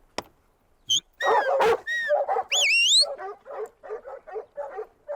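A working sheepdog on a farm in Aotearoa New Zealand barks on command to gather stock: one sharp yelp, then a burst of loud, close barks and yips, several rising whines, and a steady run of shorter barks trailing on.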